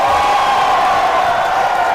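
A loud crowd cheers, whoops and hollers in a sustained roar at a live PC giveaway event, the voices blending into one steady wall of noise.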